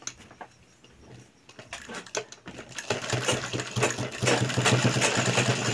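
A sewing machine stitches a trouser waistband back together, its motor whirring in short bursts that grow louder and more continuous toward the end, close by and with no one talking.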